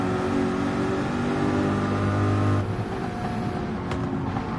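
Race-car engine noise from GT3 cars at Mount Panorama in a racing video game, a steady loud drone that holds high, then drops in pitch and level as the car backs off, with no talk.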